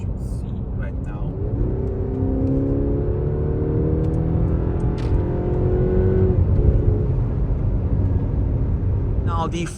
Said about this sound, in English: if we put the car in Sport Plus, then it does have this special sound, even more pronounced than the sound in the standard mode